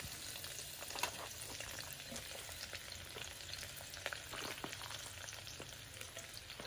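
Cabbage fries in a Swedish mess kit outdoors, a soft continuous sizzle with crackles and occasional stirring clicks, fairly quiet with no talking.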